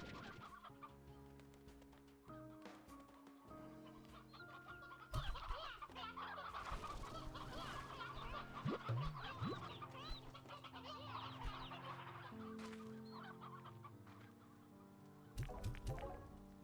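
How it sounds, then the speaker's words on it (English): Chickens in the video game Slime Rancher 2 cluck repeatedly over a steady game soundtrack, with a few sharper, louder clucks standing out near the middle and end. "I need to deposit chickens."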